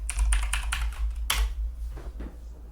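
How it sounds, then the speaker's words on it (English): Typing a message on a computer keyboard into a chat app: a quick burst of light key clicks, a sharper tap, then a few more scattered keystrokes, close and clear with no talk. "So you just type in a message"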